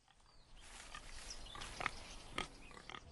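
Wild boar grunt and squeal among riverside plants and trees in Israel, a few rough snorts and sharp squeaks rising near the middle, close and moderately loud with no talk.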